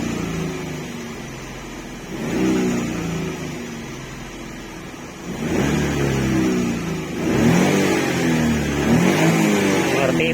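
A stock Chery QQ 308 car engine revs up in three pushes, each a steady droning rise that holds and settles. It sounds close and fairly loud, with no talking over it.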